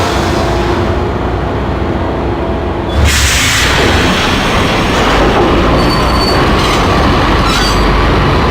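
Train rumbling along the tracks in the Max Payne video game, a steady loud rolling with a sudden burst of screeching wheels and clatter about three seconds in, continuing dense and close to the end.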